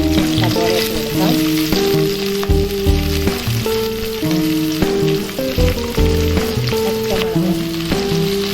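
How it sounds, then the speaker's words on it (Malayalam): Sliced onion, green chillies and curry leaves sauté for a beef curry, a loud close sizzle in hot oil with repeated scraping stirs and clinks from a spoon against the pan. "പച്ചമുളക് കറിവേപ്പിലയും കൂടെ ചേർത്ത് നന്നായി വഴറ്റിയെടുക്കാം."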